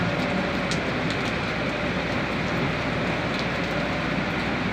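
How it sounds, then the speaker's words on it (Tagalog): Heavy rain from a typhoon pours down in a steady, dense roar in Mariveles, Bataan, with no letup throughout. "Ang ulan, guys."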